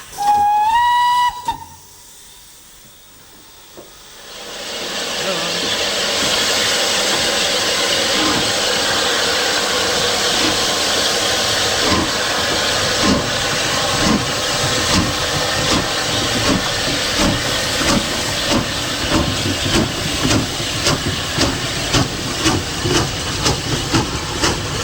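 A Bulleid 0-6-0 steam tender locomotive sounds a sharp whistle, then steam hisses and builds into a rapid, loud rhythmic chuff as the engine works hard nearby.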